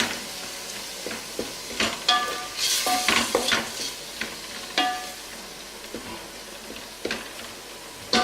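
A spatula stirs salted food in a hot pan, producing irregular scraping strokes and clinks over a soft sizzle, close up and with no talking.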